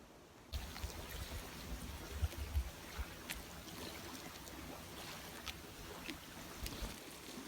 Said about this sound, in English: You'd think those waves would kind of lull you to sleep